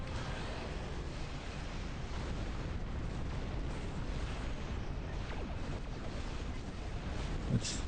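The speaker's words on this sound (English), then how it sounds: "I'm still being chased by the torpedoes." Torpedoes exploding in a Star Trek Online space battle make a dense, steady roar of blasts and rumble that fills the whole stretch, loud and unbroken, with no one talking.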